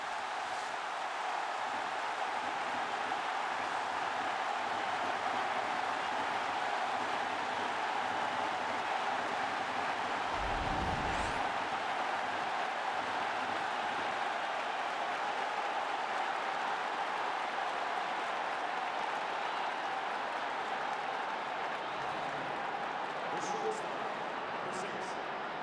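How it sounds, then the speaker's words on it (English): Baseball stadium crowd at a Japan versus South Korea game applauds a first-inning single, a long, unbroken wash of clapping and cheering that holds steady and loud, heard from a distance with no clear individual voices. "that might be the loudest first inning single applause that I've ever heard in my life"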